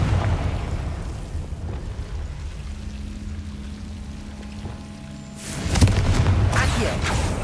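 A Confringo blasting spell goes off in Hogwarts Legacy, a sudden booming burst near the end after a quieter stretch with a low steady hum, loud and rumbling.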